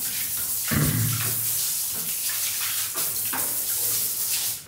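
Water splashing and gushing while a washroom is being cleaned, bursts of thrown water and running flow close by, uneven in strength, with no talk heard.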